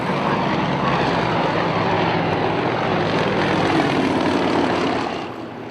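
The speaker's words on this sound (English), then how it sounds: "The Yak-52 is a popular 2-seat aerobatic aircraft powered by a 360 horsepower Radial engine." Yak-52 two-seat aerobatic trainer with a 360 horsepower radial engine racing past during an air race, a loud, continuous propeller drone that holds steady close by and then drops away near the end.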